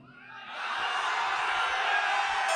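A large audience at a religious discourse shouts loudly on request, a roaring collective yell that swells within half a second and holds steady at full strength, dense and close.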